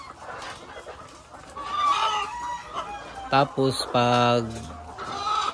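Layer chickens cluck and a rooster crows inside a poultry layer building, loud and close, with someone talking over the flock.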